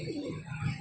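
A pigeon gives a soft, low coo, brief and close, with faint background noise around it.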